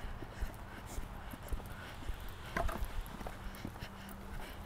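Pony hooves clop on the ground in a steady walking rhythm during a riding lesson, fairly close, with a low background hum.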